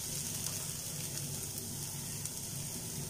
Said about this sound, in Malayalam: സവാളയും നന്നായിട്ടൊന്ന് വഴണ്ട് വരണം.